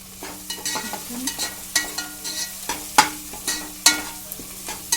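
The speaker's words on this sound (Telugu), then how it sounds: "ఉప్పు వేసుకొని బాగా కలుపుకోవాలి" Onions fry with salt in a pan, with a steady hiss of sizzling under repeated sharp spatula scrapes and taps about every half second, close and clear, with no voices.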